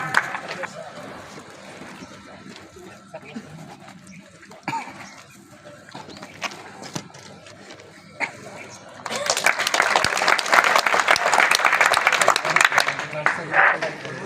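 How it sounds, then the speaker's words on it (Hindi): Attendees at a National Safety Week gathering in Jamnagar give applause for Rajesh: murmuring and scattered claps first, then a loud, dense swell of clapping rises over the last few seconds. "चलिए जोरदार तालियां राजेश भाई के नाम पे एक बार"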